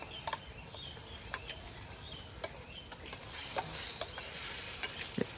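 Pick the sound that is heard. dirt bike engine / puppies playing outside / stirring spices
stirring spices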